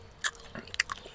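A few crisp, sharp bites into the crunchy skin of a whole roasted dill chicken, close to the mic, with brief quiet chewing between the crunches.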